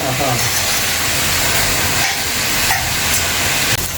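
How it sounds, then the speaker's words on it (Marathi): Sliced onions sizzle and fry in a pan for chicken, a loud, close, steady hiss throughout with someone speaking over it. "कांदा शिजतोय कांदा छान परतून घ्यायचा"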